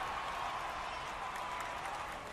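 Crowd in a PC baseball game set in 1900 cheering and applauding for Cleveland, a steady wash of clapping and crowd noise at moderate distance that stays even for the whole span, with no clear speech on top.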